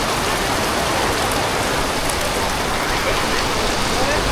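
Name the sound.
rain falling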